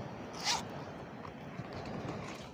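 A zipper on a tarot card pouch is pulled open in one quick, fairly close rasp, followed by quiet room noise.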